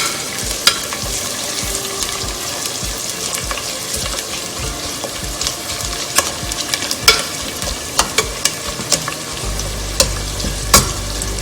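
Chopped onions and green chillies fry in oil for a spicy Andhra chicken curry, with a steady close sizzle and occasional sharp scrapes and taps of stirring against the pan.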